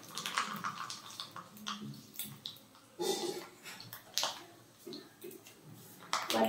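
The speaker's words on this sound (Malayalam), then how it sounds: "എണ്ണ ചൂടായിട്ടുള്ളൂ, നമുക്ക് അതിലേക്ക് കടി ചേർത്ത് കൊടുക്കാം" Mustard seeds splutter in hot oil in a pan while tempering for a Kerala-style raw mango pulissery, giving scattered sharp pops and crackles at close range, with a voice speaking now and then.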